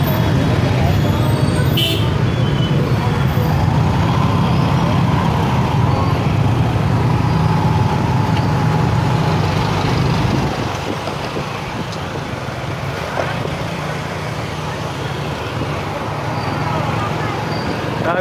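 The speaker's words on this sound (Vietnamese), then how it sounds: "kẹt xe." Dense, loud traffic jam on a Saigon street: a continuous roar of motorbike and vehicle engines with scattered horn toots, easing a little partway through.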